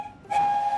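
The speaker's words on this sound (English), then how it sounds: "It has a very unusually shaped funnel and a whistle which sounds like this." A steam engine whistle from Thomas & Friends, a single clear high-pitched blast that starts abruptly and holds steady at close range, with no voices.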